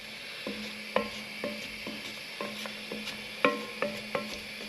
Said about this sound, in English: letting it fry off for a little while